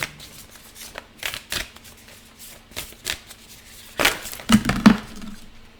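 A tarot card deck shuffled by hand, close up, in a series of short riffling bursts with brief pauses between them, ending in a louder cluster of flicks and soft clinks.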